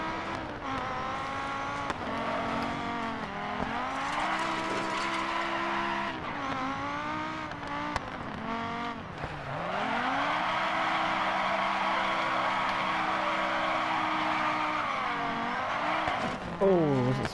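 Rally car in the game DiRT 4, an engine revving and shifting through the gears in a steady close roar, rising and falling in pitch, with a brief scrabble of tires near the end.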